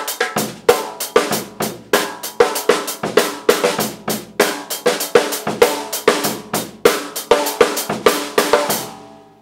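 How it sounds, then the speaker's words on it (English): A drum kit plays a steady beat with every hit struck at even volume, no accented notes standing out, a dense run of sharp, close strikes lasting several seconds and ending in a fading ring. "So let me show you a beat with no difference between the accents and unaccented notes."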